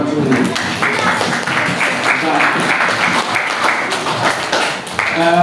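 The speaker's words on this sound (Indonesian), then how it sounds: "Tepuk tangan dulu." Junior high school students at SMP Negeri 3 Singkawang applaud together, a dense, steady clapping that fills the space for several seconds, with voices mixed in.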